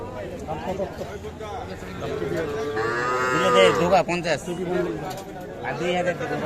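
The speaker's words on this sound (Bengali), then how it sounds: "এই পাশে আরো কিছু বাছুর দেখছি এগুলো সবগুলো কিন্তু সার বাছুর" Young calves and bulls moo loudly at Jabarhat cattle market in Bangladesh, with one long, drawn-out low call in the middle and people chattering throughout.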